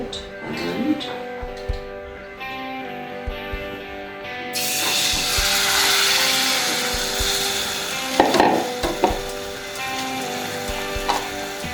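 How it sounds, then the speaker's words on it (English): Gokul pitha frying in hot ghee over a low flame, a soft sizzle that grows into a fuller crackle about halfway through, broken by occasional utensil taps and clinks. "our ghee is also ready. It's hot enough. So I'm gonna fry it, just a little bit of it"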